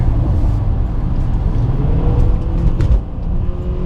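A 2017 Honda Accord Sport's CVT engine drones at a steady high pitch under full-throttle acceleration, holding a constant whirring roar rather than rising and falling through gears.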